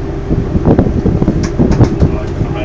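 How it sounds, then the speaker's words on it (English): Strong wind buffets the deck of the Gosport ferry as it sails. The roar is loud, low and gusting, with rumbling pulses from the boat underneath. "Especially with this wind."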